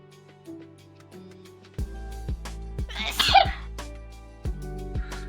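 A single loud sneeze bursts out in the middle of a quiet indoor livestream setting, with soft low thumps and faint background hum around it.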